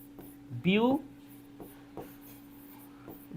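A pen taps and scratches as notes are written during a chemistry class, in a few soft, close strokes. A voice speaks briefly near the start.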